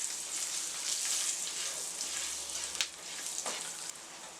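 Three cloves of garlic dropped into hot oil with browned flour for a Creole-style Caribbean stew, giving a soft, continuous frying sizzle with a couple of faint clicks from stirring, no voices.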